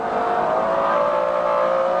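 Continuous high-pitched howl of a McLaren F1's 627-horsepower V12 under hard acceleration on the Goodwood racetrack, a loud, steady engine note with a rising whine and no voices.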